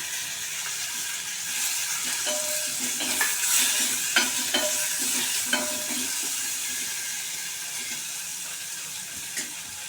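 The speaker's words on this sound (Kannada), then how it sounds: "ಇದಕ್ಕೆ ನಾನು ಇವಾಗ ಎರಡು ಟೊಮೆಟೊ ಸೇರಿಸ್ತಾ ಇದ್ದೀನಿ" Tomatoes going into a hot pan for jackfruit sambar, with steady oily sizzling and scraping stirring strokes; the frying stays close and constant with no talk.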